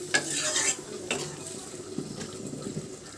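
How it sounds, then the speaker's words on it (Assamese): Spatula scraping and stirring sour fish curry (tenga) in a wok with a little water, several distinct scrapes over a soft bubbling sizzle, close and alone without speech. "এতিয়া মই দুবাৰমান লৰাই দিম।"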